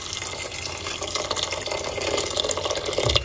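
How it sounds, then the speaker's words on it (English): Hot water, about a cup, poured into a cooking pot holding red kidney beans for a beet juice drink; a steady, close splashing stream runs throughout with no talk. "We're going to put roughly about 1 cup of hot water."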